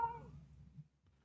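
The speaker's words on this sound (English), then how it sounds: "All I heard was meow." A faint, short cat meow plays from a phone speaker held toward a microphone, one brief tinny call over low background murmur, then quiet.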